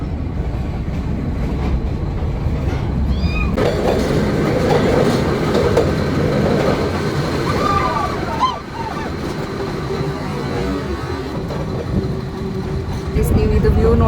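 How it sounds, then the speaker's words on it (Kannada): The Ooty toy train rumbles steadily along the rails with a rhythmic clickety-clack, while voices talk over the continuous rolling noise. "ಆದರೂ ಮಸ್ಟ್ ವಿಸಿಟ್ ಆ ಟಾಯ್ ಟ್ರೈನಲ್ಲಿ."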